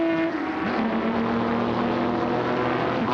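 Nissan R381 race car, number 20, its V12 engine droning as it rounds a hairpin curve on a rain-soaked circuit, a loud, continuous engine note whose pitch shifts slightly through the turn.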